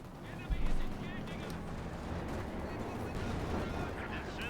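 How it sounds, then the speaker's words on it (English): Gunfire and a flurry of grenade blasts in Company of Heroes 2, Soviet forces against OKW with MG-34 machine guns in the fight, a dense steady battle din with one sharper thump early, under continuous talk. "Shots fired. Grenades off here. Lots of grenades."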